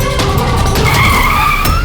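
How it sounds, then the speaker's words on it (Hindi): A car braking to a halt with tires skidding and squealing, a loud sustained screech over steady road and engine noise, close and with no voices. "अरे भैया, गाड़ी क्यों रोक दी?"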